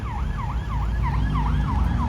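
A police siren wails on Soho Road in Birmingham, a loud repeating rising-and-falling whoop over the rumble of street traffic, with no one talking.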